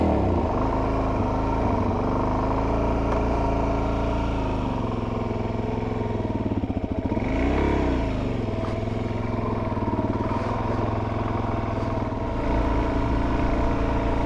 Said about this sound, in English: let's hop on the bike and take it down the road